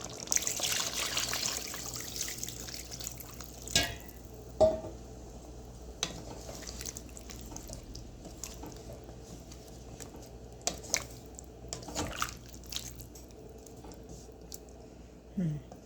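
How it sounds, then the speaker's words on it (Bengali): Water poured into a pot of chicken curry with potatoes gives a soft, steady trickle and splash, followed by faint stirring and a few light clinks of utensils against the pan. "এখন আমি একটু এখানে পানি দিয়ে ঝোল দিচ্ছি"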